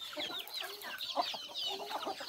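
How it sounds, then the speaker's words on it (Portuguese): Chickens cluck and chatter steadily on a small farm plot early in the morning while being fed corn, a busy close flock with overlapping short calls and no clear crow standing out. "Você acordar de manhã cedo com galinha assim, desse jeito assim, ó. Galo cantando."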